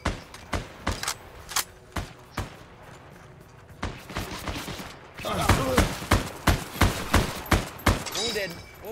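Gunfire in the online war game Heroes & Generals, a rapid series of sharp, loud shots in irregular bursts, growing denser and heavier toward the end, with no talk over it.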